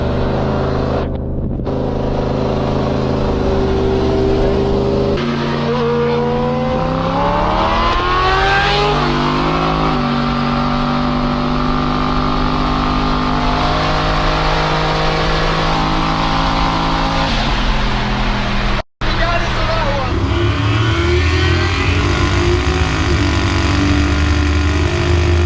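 A 1000+ hp twin-turbo sleeper truck races a GSXR 1000 motorcycle on the street, its engine roaring loud and close through long rising revs and gear shifts, with a brief cut near the end.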